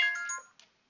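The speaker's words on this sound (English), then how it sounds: "Okay, yeah, that was my phone." A mobile phone ringtone plays a brief bright electronic chime that rings out and fades within half a second, followed by a faint second blip, heard alone with no talking.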